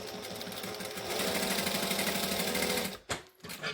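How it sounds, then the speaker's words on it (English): A sewing machine stitches dress fabric in a fast, steady whirring run for about three seconds, then stops abruptly, leaving a few faint handling noises. "Make sure that you backstitch at the front and the end"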